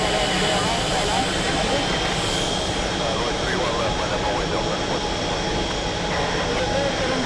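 Jet airliner roaring down the runway on takeoff at JFK airport, a continuous broadband engine rush that holds steady and loud throughout, with a controller's voice speaking over it.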